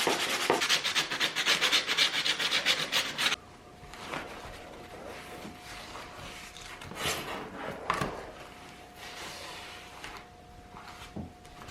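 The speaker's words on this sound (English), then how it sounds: "So I think I'm gonna do a quick hand sand of the edge here" Hand sanding along the edge of a cosplay wing harness: a few seconds of dense, rapid rasping strokes up close, then quieter, scattered rubs and handling noises over a faint steady hum.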